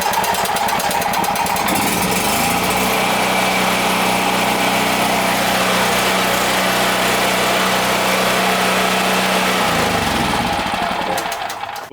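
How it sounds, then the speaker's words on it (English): A portable generator engine with the fuel valve open and choke applied cranks and catches, then runs loudly and steadily for several seconds before shutting down, with no talking over it. "we're going to attempt to start it the usual way"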